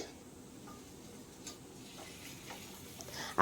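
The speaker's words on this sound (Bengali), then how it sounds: "তাই 2 মিনিট এইভাবে মিডিয়াম ফ্লেমে ভেজে নিতে হবে।" Potatoes and yardlong beans fry in oil in a pan over a medium flame, giving a quiet, steady sizzle with a few light ticks and stirring clinks.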